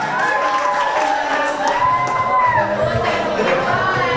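A crowd of children and adults applauds and cheers at an education event in Jakarta, the clapping mixed with shouts and lively voices, loud and sustained for a few seconds.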